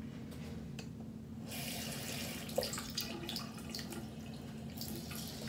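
Water runs from a bathroom tap in a steady, soft stream, with a few faint splashes and knocks nearby; fairly quiet overall.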